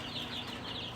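Chickens cluck in a heated chicken house, crowded together near the heater, giving a steady, busy murmur of overlapping calls with no talking.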